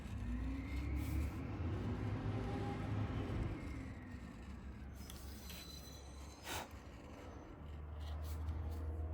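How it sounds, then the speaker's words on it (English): A trash truck passes outside a workshop where a leather belt is being made. The engine grinds and rumbles through a low drone that rises and falls, faint and distant, with a few small knocks nearby and no talking. "Boy, it's a noisy day today. Trash trucks now,"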